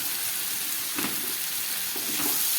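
Spice paste of garlic, green chillies and ginger frying in hot oil, a continuous loud sizzle with a couple of brief bursts as it is stirred, no voices.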